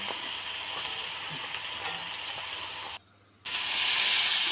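A pot of Bengali shukto curry bubbles on the stove with a continuous close hiss and faint bubbling. It breaks briefly, then resumes slightly louder.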